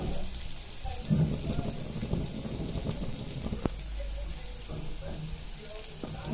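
Green chillies fry in hot oil for a masala chilli dish, giving a dense, rain-like crackling sizzle up close with scattered pops and a dull knock midway, no speech.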